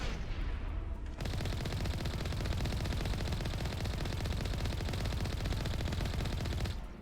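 A vehicle-mounted main cannon fires in the video game Mass Effect 1 Legendary Edition, a dense sustained barrage of rapid gunfire lasting several seconds, faint in the mix.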